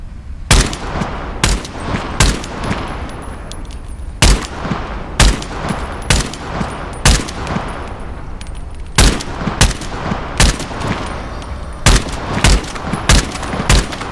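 AK rifle fire in the VR game Into the Radius 2, loud sharp single shots and short clusters repeated irregularly, close up and alone without talk.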